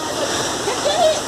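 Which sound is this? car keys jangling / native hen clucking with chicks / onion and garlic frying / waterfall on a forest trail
waterfall on a forest trail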